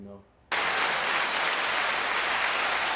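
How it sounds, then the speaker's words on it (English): A recorded applause effect from a soundboard on a boxing talk podcast cuts in abruptly after a brief quiet moment, then holds as a loud, even wash of clapping. "So let's give it a round of applause to him."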